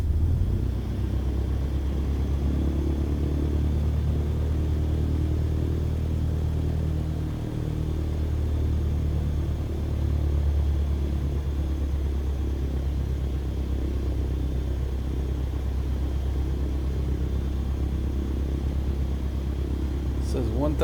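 A small propeller plane's piston engine in Microsoft Flight Simulator, starting at Goodyear, Arizona, then settling into a steady, loud low rumble at idle for the whole stretch, with someone talking over it.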